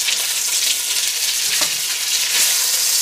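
Onions hit a very hot pan still coated with the browned sugars from chicken cooked earlier for a tajine, giving a loud, steady hiss and crackle of frying from close by, with no talk.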